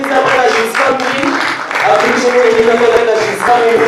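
Applause welcoming the rapporteur at a children's climate summit in Africa, a loud continuous wash of many hands clapping across a hall, steady throughout with voices underneath.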